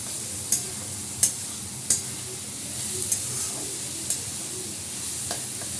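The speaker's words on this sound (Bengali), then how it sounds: "একটু সবজিটা ভালো করে ভাজা হোক, এটা ঢাকা দেবো না, এটা এরকম করে আস্তে আস্তে করে ভাজা হোক।" Vegetables for chow mein fry uncovered in a pan with a constant close sizzle, broken by several sharp spatula taps against the metal at irregular intervals.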